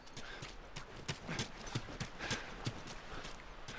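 Steady clip-clop of horse hooves at a brisk walking pace in the video game The Last of Us Remastered, fairly close, with a rhythmic series of sharp knocks and no voices.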